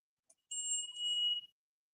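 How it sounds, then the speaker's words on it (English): A prayer bell struck once during an evening livestream, ringing out as a clear metallic tone that hums steadily for about a second before cutting off, alone in a quiet room after a tiny tap. "Free ringing of the bell."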